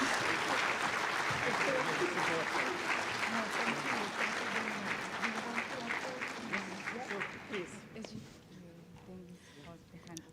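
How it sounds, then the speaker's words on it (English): Audience applause at a UN global supply chain forum, sustained clapping that fades out after about eight seconds, with voices and talk running underneath. "to receive a big applause from all of you, please."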